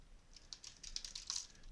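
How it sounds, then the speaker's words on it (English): Typing on a computer keyboard while entering an IP config command at a Windows Server 2008 command prompt: a quick, uneven run of light clicky keystrokes, close and fairly faint, with no talking. "typing an IP config in your command prompt"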